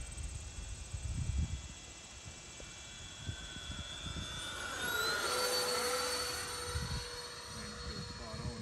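A Freewing A-10 twin 80mm electric ducted-fan RC jet comes in to land on a runway, its thin whine sweeping in pitch as it passes, fairly faint and distant with brief low thumps.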